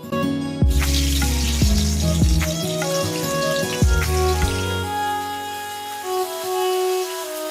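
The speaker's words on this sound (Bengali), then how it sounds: "মেয়ের জন্য আলু ভেজে দিচ্ছি" Potatoes frying in a home kitchen pan give a steady, even sizzle that runs throughout, mixed with a strong low droning hum and faint knocks.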